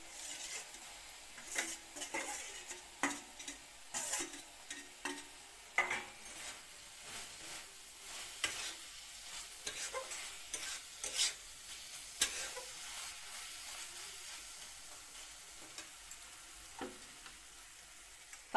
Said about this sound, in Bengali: তারপর কোয়াশ কুচি ভাজাগুলি দিয়ে দিলাম।